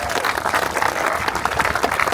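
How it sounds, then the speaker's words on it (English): Brief burst of dense applause at an outdoor street sign dedication press conference in Middletown, New Jersey, clapping honoring the township police department. "Our Middletown Police Department certainly deserve a round of applause."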